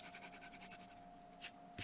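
A white pencil rubs over marker on paper in quick, rhythmic back-and-forth strokes, soft and close, then pauses before a couple of brief scratchy strokes.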